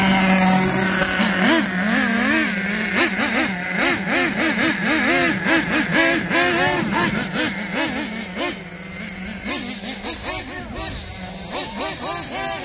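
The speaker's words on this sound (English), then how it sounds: "A little laps here and there with the Twin Titan" An OFNA Twin Titan RC monster truck runs laps close by, its small engine whining through repeated rising and falling revs that stay loud and steady throughout.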